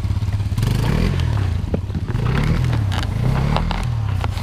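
A motorcycle climbs the Khamar-Daban mountain pass, its engine droning close and loud with wavering revs and rattling clatter from the rough ground.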